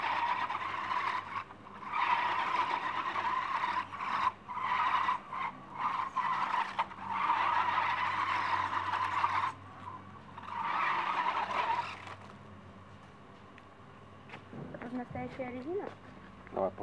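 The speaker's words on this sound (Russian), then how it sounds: "Звук, как у реальной шины." Small rubber tires of a Feiyue FY-03 RC car squeal and skid in repeated bursts on a hard surface, fairly close, with pauses between runs and a voice speaking briefly near the end.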